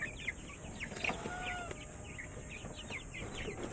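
Small duckling chicks in a homemade brooder pen peep and chirp in a busy, overlapping chorus, their short high calls repeating steadily at close range over faint background noise, with no talking.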